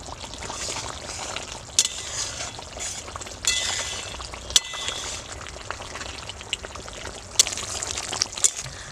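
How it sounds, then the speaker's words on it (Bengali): Water poured into spice paste frying in a pan for chicken curry with maan kochu, a continuous hissing sizzle and splutter with scattered sharp pops close up. "আমি একটু জল দিয়ে দিলাম"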